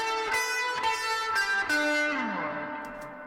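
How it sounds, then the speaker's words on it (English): A musical tone pushed through the AIR Soft Clipper plugin with heavy drive, giving a buzzy, saturated distortion on sustained notes that fade out toward the end. "that's saturation, and you're getting that sort of distortion, but it's not clipping"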